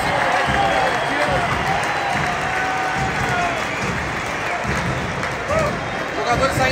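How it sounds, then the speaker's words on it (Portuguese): Stadium crowd at Beira-Rio applauding as players leave the pitch after a 1-0 football win over Bragantino, a steady wash of distant clapping and crowd noise throughout. "Jogadores saindo aplaudidos de campo depois de 1-0."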